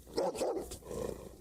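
A dog barks and growls nearby, a couple of rough, muffled bursts over a steady background hum, with no talking.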